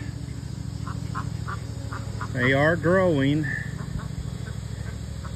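One-week-old ducklings peep in a brief burst of high, wavering chirps over a steady background hum, with faint peeps and a short spoken remark around them.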